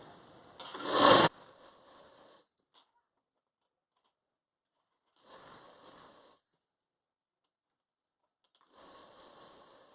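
Sewing machine stitching along a folded fabric edge for piping, a loud whirring burst of stitching, then two softer, longer runs separated by silence.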